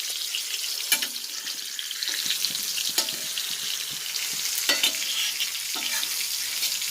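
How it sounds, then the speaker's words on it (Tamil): Continuous crackling sizzle of barracuda fish frying in hot coconut oil, with occasional sharper pops and spatters, close up and without talk. "தேங்காய் எண்ணெய் வந்து இந்த மாதிரி மீன் பொரிக்கும் போது"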